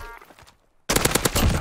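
Gunfire in Call of Duty: Warzone, a rapid automatic burst that starts abruptly after a near-silent moment and continues loud and close to the end, preceded by faint distant shots.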